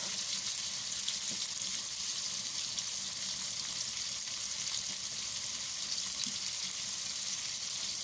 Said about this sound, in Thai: ตอนนี้เราก็เจียวเจียวมัน